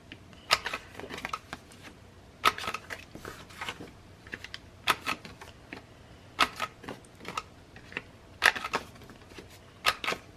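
A corner rounder punches the corners of journaling cards, producing quiet, crisp clicks and snaps in uneven clusters, close to the listener, with no talking.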